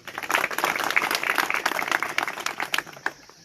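An audience at a sports ground inauguration in Ichgam, Budgam district, applauds the government team and PRI members, a full round of clapping that fades out toward the end.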